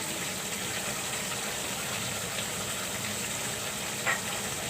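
Fried onions hit a pot of beef kala bhuna, a dark Bangladeshi slow-cooked beef curry made with Eid sacrifice meat, and the pot gives a steady, broad sizzling hiss with no talk over it.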